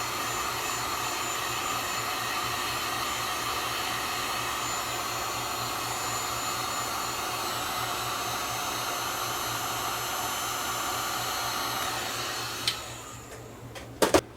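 A heat blower runs continuously with a loud, steady whooshing hiss while warming the stickers on a Ms. Pac-Man TV game, then cuts off near the end with a couple of small clicks.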